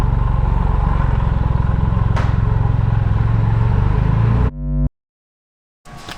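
Supercharged Triumph Rocket 3 motorcycle, about 340 bhp, accelerating hard with a loud, close, steady engine roar that cuts off abruptly, goes silent, then briefly resumes.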